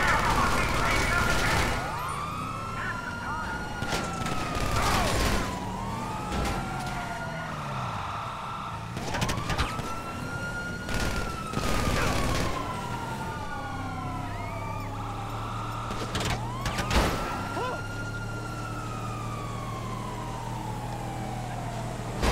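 Police sirens in GTA V wail in repeated rising and falling sweeps over steady car engine noise and game sounds, with a voice talking intermittently.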